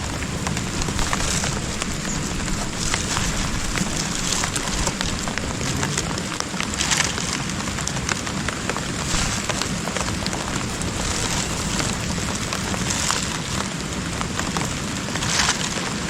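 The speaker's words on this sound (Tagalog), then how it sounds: "Ay walang katapusan ng ulan." Steady rain pours down outdoors, a dense, even hiss of drops striking surfaces that holds at constant loudness throughout, with no voices.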